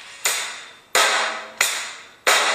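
Four sharp percussive hits spaced about two-thirds of a second apart, each bursting bright and decaying slowly, as from a rock drum kit groove of bass drum, hi-hat and snare played by a young drummer; no talking.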